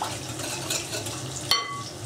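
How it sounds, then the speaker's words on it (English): A whisk swishes steadily through custard seasoned with fresh nutmeg in a quiche Lorraine filling, a close, continuous stirring rush broken by a single bright clink against the bowl. "I'm just going to stir everything together"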